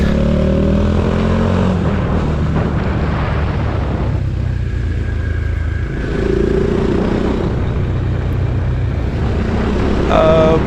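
Bajaj Dominar 400 motorcycle riding on a hill road at Fraser's Hill, a steady engine drone mixed with heavy wind buffeting on the microphone, continuous and close throughout.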